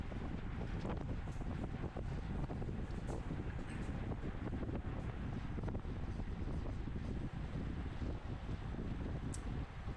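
Heavy, continuous wind buffeting the microphone during an open 50+ bicycle race in California, a loud, roaring rumble that fills the whole stretch without letup.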